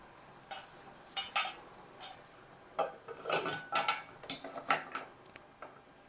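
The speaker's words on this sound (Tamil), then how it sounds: "இப்போ நம்ம மூடி போட்டுடலாம்" A lid set onto a pot of chicken curry, giving several sharp metallic clinks and scrapes in irregular bursts, close and fairly loud against a quiet kitchen background.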